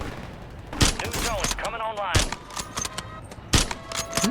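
Kar98k sniper rifle fire in Call of Duty Warzone: several sharp, loud gunshot cracks spaced apart, with game effects sweeping between them and a voice talking faintly underneath.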